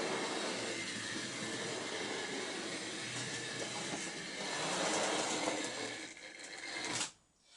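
A model railway train runs along its track with a steady, close whirring rumble that holds throughout, then cuts out abruptly just before the end; no one speaks.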